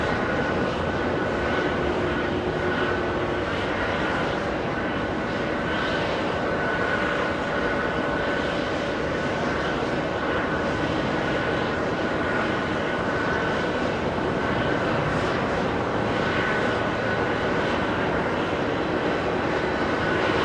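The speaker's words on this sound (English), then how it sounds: "Jetblue 1769, that's an A321 Neo" A JetBlue Airbus A321neo taking off from JFK, a loud, sustained engine roar with a steady rumbling drone that stays strong and even throughout.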